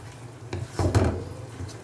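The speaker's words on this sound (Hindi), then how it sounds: "और इसको मिक्स कर देना।" Black pepper being mixed into food in a dish, a short clatter of a spoon scraping and knocking against the dish, with one louder burst of rubbing and clinking near the middle.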